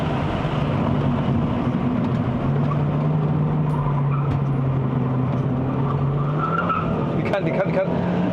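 A Hyundai Elantra Sport 1.6 Turbo accelerating hard on a mountain road, engine droning loudly and steadily with tire squeal rising over it, heard from inside the car.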